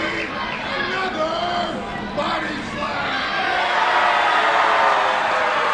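Crowd at a live wrestling fight night in an arena, a rising roar of cheering and babble that swells louder toward the end, with an announcer's voice heard over it early on.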